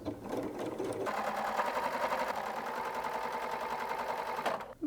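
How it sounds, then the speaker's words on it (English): A sewing machine stitches a narrow 1/8 inch French seam at a steady, rapid mechanical whir, starting after a brief pause and running close and continuous for several seconds before stopping. "When I have my needle in center needle position, I've got markings on my plate"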